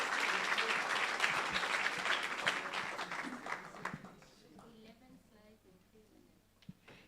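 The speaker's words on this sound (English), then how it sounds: "Clap hands. Y'all need to clap." During a research week plenary conference, an audience applauds someone called onto the stage with dense clapping that tapers off, and a few talking voices remain afterward.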